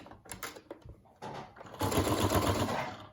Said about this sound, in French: Et je vais venir le piquer une première fois à la machine.